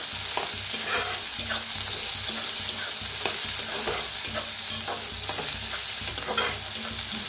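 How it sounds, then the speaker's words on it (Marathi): Onion and spring onion roasting in a pan with curry leaves, a steady close sizzle and crackle of frying with repeated scraping stirs throughout, no talk. "कांद्याची पात आणि थोडासा कांदा होता बघा, ती छान असं भाजून घेऊया दोन्ही बी"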